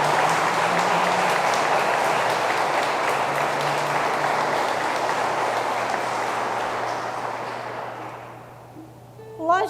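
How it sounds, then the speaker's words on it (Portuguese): Sustained audience applause fills a hall in Moinho after a call to honour the support team, a dense steady roar of clapping that slowly thins and fades, with a brief voice rising at the very end. "Eu gostaria de pedir uma salva de palmas."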